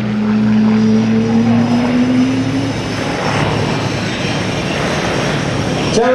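Propeller aerobatic airplane flying a square loop at an air show open house, a loud, sustained engine drone with a falling pitch as the aircraft dives past, then fading at the end.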